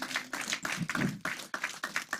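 A church congregation claps together in a steady, rhythmic beat, a roomful of hands sounding fairly close and lively, with no voices on top.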